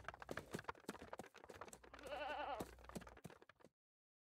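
Cartoon goats bleating in a house, a quick run of sharp clicks and rattles followed by a loud, wavering bleat near the middle, ending abruptly in silence.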